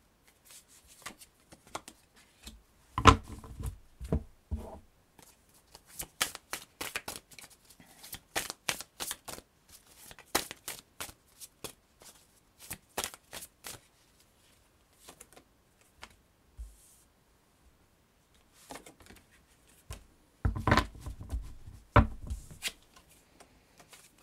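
Angel tarot cards being shuffled by hand in quick bursts of crisp, papery riffles, separated by short pauses, close and fairly quiet with no talking.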